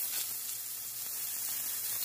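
Mushrooms searing in an uncrowded pan for fajitas, giving a steady, even sizzle of moderate loudness that runs unbroken with no voice over it.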